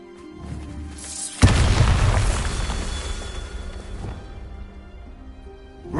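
A Bombarda spell explosion in Hogwarts Legacy hits with a sudden loud boom at about 1.4 seconds, then a rumbling, debris-filled roar that slowly fades over several seconds against quiet ambient tones.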